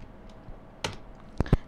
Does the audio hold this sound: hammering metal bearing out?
no